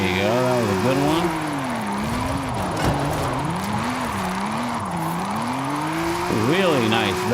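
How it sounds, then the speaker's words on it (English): A car drifts in Forza Horizon 5, its engine revving and wavering up and down as the tires skid steadily, a continuous close whine with rising pitch sweeps near the start and end. "Really nice, very smooth drift in this car."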